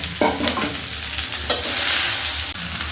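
Shredded cabbage sizzling steadily in a hot pan while being stirred, with scraping strokes and bright crackle over a constant frying hiss, close and fairly loud.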